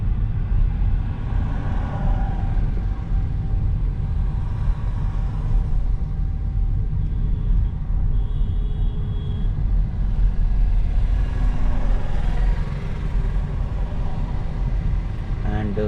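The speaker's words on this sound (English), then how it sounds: "we are currently just cruising at 32 kilometers per hour" A Hyundai Kona Electric cruising slowly on a road, a steady broadband rumble of tyres and road noise at constant level throughout.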